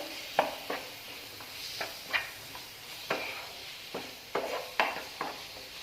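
A spoon stirs chilli powder into a pizza topping mixture for kubboos pizza, giving a series of soft scraping and clinking strokes at an irregular rhythm, close and fairly quiet, with no talking.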